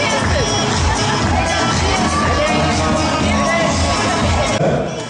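A dense crowd at an Environment Day celebration event roars and cheers loudly and continuously, with mixed shouting voices blending into a thick wall of noise.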